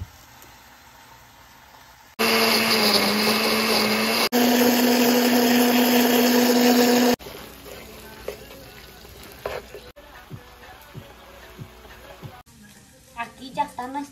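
A blender grinds green salsa of cilantro and onion, roaring loudly for about five seconds in the middle, with quieter kitchen sounds before and after.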